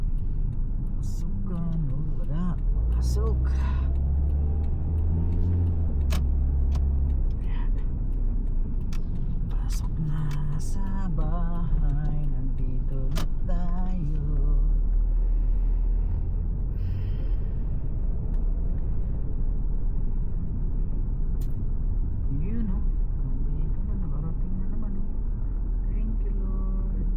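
Monday-morning school-opening rush-hour traffic rolls past, a continuous low rumble of cars and larger vehicles with people talking over it.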